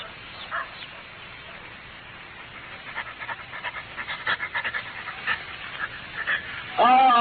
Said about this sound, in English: Leave the dog here and come up.